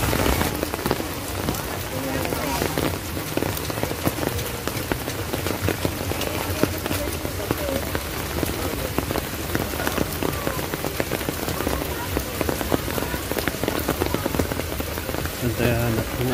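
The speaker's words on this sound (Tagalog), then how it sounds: "Ito ang ulan." Heavy rain pours down steadily, a dense close patter drumming on surfaces throughout, with no break.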